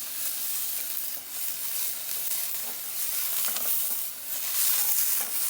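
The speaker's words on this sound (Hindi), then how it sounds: "मैगी देखिए जीरा डाल दिया प्याज डाल दिया ठीक है और हमने अब डाल दिया टमाटर" Tomatoes, onion and cumin frying for Maggi on a clay stove, a steady close sizzle with bright hissing that swells and dips as the mixture is stirred, no voices over it.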